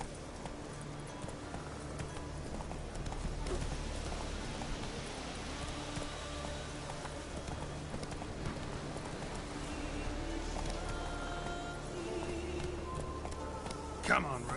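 Hooves of a horse in The Witcher video game drum in a continuous galloping rhythm, moderately loud and steady from start to finish, with a faint patter like rain in the background.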